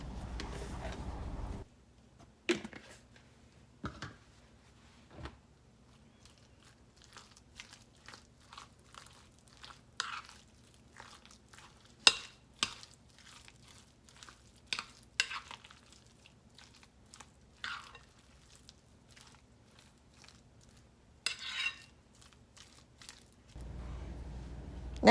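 A spoon works through Southern-style potato salad in a bowl after a quarter cup of extra mayonnaise goes in, giving soft, wet, sticky scrapes and occasional clinks, quiet and close with gaps between strokes.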